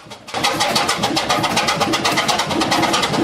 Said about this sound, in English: This 375 RPM, 500 horsepower Allen 6S37 oil engine installed at Welch's Dam pumping station in 1948 for fen drainage.